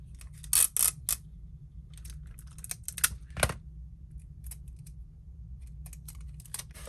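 Adhesive tape is pulled and pressed onto a paper album page in a quiet room: two sharp, rasping tearing bursts, then soft taps and rubbing sounds.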